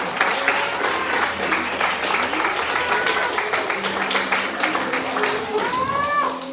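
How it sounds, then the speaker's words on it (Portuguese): Applause from a church congregation at a Portuguese-language service in Japan, a steady wash of clapping with voices calling out over it and a rising cry near the end. "Aplausos ao Senhor."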